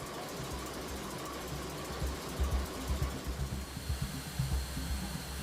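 Engine room machinery aboard the USS New Orleans, a steady low mechanical drone with rhythmic thumping pulses and a constant hiss, close and enveloping.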